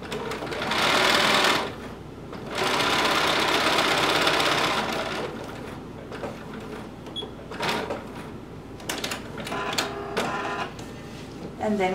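Sewing machine stitching across the top of a DIY fabric top, with two long loud bursts of rapid mechanical whirring followed by shorter stop-start runs and clicks, close by, with no talking.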